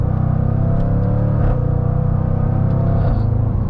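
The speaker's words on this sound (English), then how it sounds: "that insane V8 under the hood." The V8 engine of a 2024 Jaguar F-Pace SVR rumbles steadily and loudly up close, holding a strong low throb with slight shifts in pitch, no voices.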